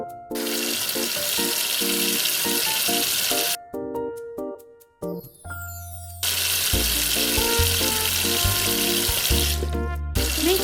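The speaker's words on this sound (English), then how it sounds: "rinse and wash mushrooms" Mushrooms that had soaked in cornstarch are rinsed and washed under running water, giving a splashing, hissing rush in two long stretches. Plucked musical notes sound under the water and in a short quiet gap between the stretches.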